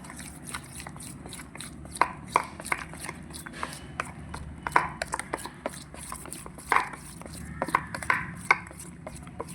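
Cake batter of milk and powdered ingredients is mixed by hand in a bowl, giving quick, repeated clacking taps of the utensil against the bowl and soft wet scraping. The sound stays close, with no talking.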